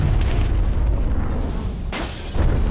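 A napalm strike in Call of Duty Black Ops Cold War on the Sanatorium map, a heavy rumbling explosion roar that sustains and then swells again with a fresh burst, loud and without speech.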